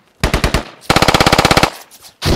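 A machine gun in a squad-based shooter video game fires at a wall, a short burst followed by a longer rapid stream of loud, evenly spaced shots, then another burst starting at the end.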